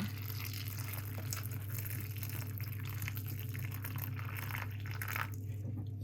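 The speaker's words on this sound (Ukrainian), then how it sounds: "Заливаю 100 г чорнослива, заливаю кипятком." Boiling water is poured over 100 g of prunes, a soft steady trickle and splash of liquid, faint and continuous, with no speech.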